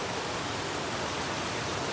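A jungle waterfall near Pai in Thailand roars as a steady, dense rush of falling water that fills the whole clip with no voices.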